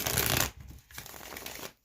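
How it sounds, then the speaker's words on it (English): A deck of tarot cards is shuffled close up with a quick riffling burst, then a softer second pass of cards sliding and flicking together before it stops. "one more shuffle here."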